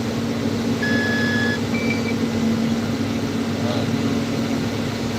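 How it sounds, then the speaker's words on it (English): A baler gate alarm beeps a few times in short electronic tones over the steady drone of a running tractor and baler. "we started really having these gate alarms."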